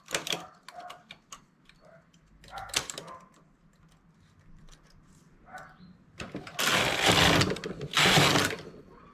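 A knitting machine working on a folded cuff: scattered clicks and ticks of needles and carriage, then louder rushing passes of the carriage sliding across the bed, with faint voice in places.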